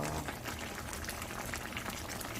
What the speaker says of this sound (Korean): 완전히 익을 때까지 끓여줍니다.